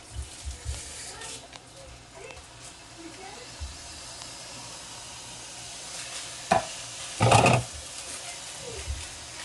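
Coconut milk stirred into a pot of vermicelli curry soup for khao poon, with soft scraping and sloshing, a brief louder clatter near the end, and faint talk in the background.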